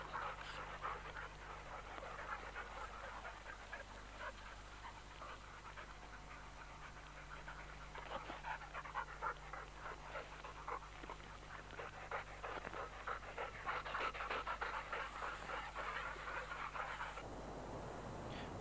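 Pointing dogs trained as British bird dogs pant steadily and rhythmically during outdoor exercise, a continuous run of quick breaths close by with no talking.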